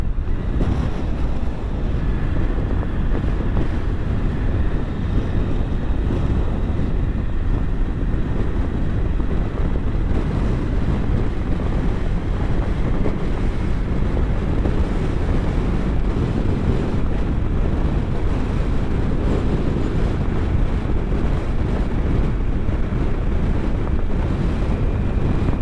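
Heavy wind buffeting the microphone on a Triumph Tiger 900 motorcycle ride in Texas, a continuous loud roaring rush with no breaks.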